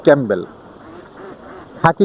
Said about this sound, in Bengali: আমরা এখানে দিয়েছি খাকি